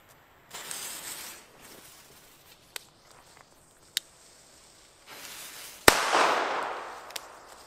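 Small Fire Event and Rubro firecrackers go off outdoors as a scatter of sharp, scattered pops. Then one loud bang comes with a long, fading echo.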